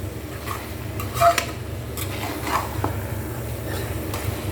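A spoon stirs and clinks against a metal pot as spices are mixed into rice for chicken pulao, soft scraping with a few sharper taps over a steady low background.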